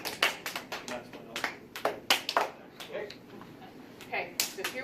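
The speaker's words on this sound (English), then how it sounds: "everybody claps together" A group claps hands during an ice-hockey stick-handling sound activity, producing a quick series of sharp, slightly uneven claps that are fairly close and moderately loud, with no talking.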